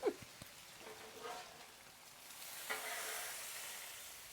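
Korean chicken noodles with Korean chili paste and low-carb teriyaki sauce being mixed on a Blackstone griddle, giving a soft steady sizzle with a few scraping stirs and no talk.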